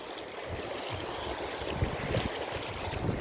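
Sea waves wash against the shore beside a seaside boulevard, a steady broadband rush with wind buffeting the microphone and soft surges swelling over a few seconds, no talking.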